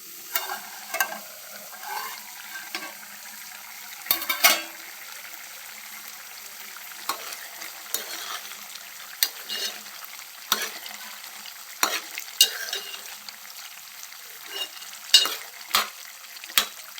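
Mutton curry fries in a pan with a low, continuous sizzle, while a spoon clanks and scrapes against the pan in irregular bursts of stirring, close and without speech.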